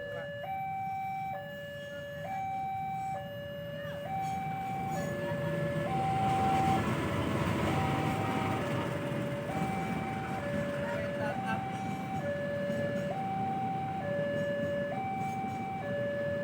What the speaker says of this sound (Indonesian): ternyata kereta api Ambarawa Express relasi Semarang Poncol sampai dengan Surabaya Pasar Turi